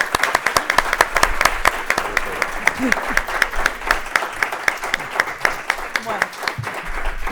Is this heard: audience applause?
yes